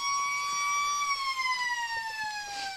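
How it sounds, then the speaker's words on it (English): A siren sounds at a Riverina Australian football match between the Lions and Tigers, one long steady wailing tone that slowly falls in pitch, fairly faint and heard across the ground with no talk over it. "siren."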